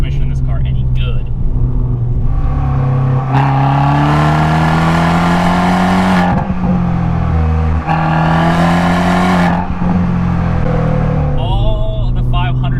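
A Fiat 500 Abarth with a manual transmission drives by, its engine rumbling and revving up through repeated rising pulls, loud and continuous beneath a voice talking throughout.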